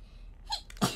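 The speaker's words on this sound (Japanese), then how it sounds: "あ、くしゃみ。" A single sharp sneeze bursts out near the end, close and loud, preceded by a faint breathy intake, with no talking.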